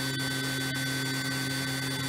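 A DMG Mori DuraVertical 1035eco machining centre spindle spins at high speed, giving a steady electric hum with fixed tonal whine, constant and unbroken.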